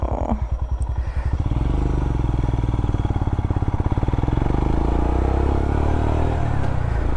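Royal Enfield motorcycle, a Himalayan or Scram, rumbles steadily as it is ridden, with a loud, close single-cylinder pulse that persists throughout and no talking.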